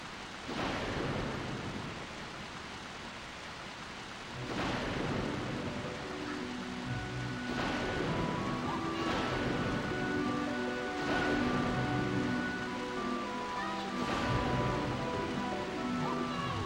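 Thunderstorm ambience from the PlayStation 2 game Mad Maestro, with steady heavy rain and several rolling thunder claps arriving every few seconds, loud and continuous throughout.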